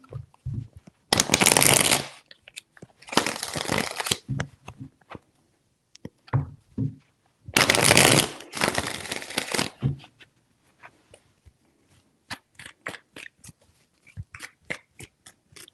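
Tarot cards are shuffled in several bursts, close and crisp riffles separated by pauses filled with lighter taps and card handling, with no voices.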